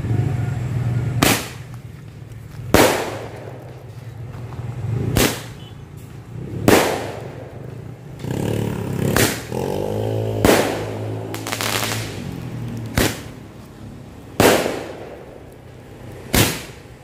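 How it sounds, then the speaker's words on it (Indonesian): A Roman candle firework fires a series of about ten sharp, loud pops at roughly regular intervals, each shot a sudden crack with a short fizzing tail, with a brief crackling hiss partway through. "Selanjutnya kita nyalakan mercon Roman candle."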